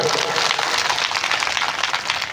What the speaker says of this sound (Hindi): इनके लिए आप सब लोग बड़े जोरदार से एक बार ताली मार दो